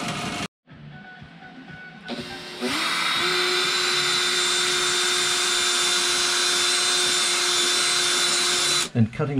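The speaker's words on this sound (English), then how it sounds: "cutting the holes using a special drill bit for putting the grommets in" A drill with a special bit cuts grommet holes in sail cloth, whining at a steady high pitch for several seconds after a brief start-up, then spinning down abruptly at the end.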